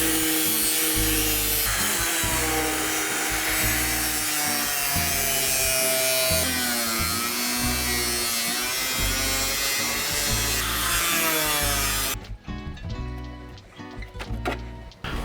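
An angle grinder cuts into the cowl of a rear-wheel-drive Honda Prelude with a loud, harsh, continuous whine that rises and falls in pitch as it bites into the metal, then stops abruptly, leaving quieter clattering and handling noise.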